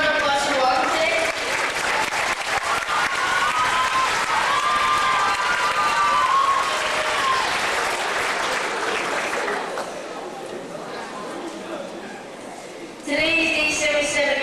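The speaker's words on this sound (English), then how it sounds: "can we give them a round of applause for walking today?" A crowd at a charity walk event in Port Colborne, Ontario, applauds and cheers for the walkers in a steady, loud wash of clapping that thins toward the end, with voices mixed in.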